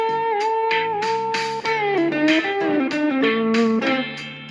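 An electric guitar plays a slow blues solo in A over a backing track, singing bent notes with short pauses, up close and alone without voices.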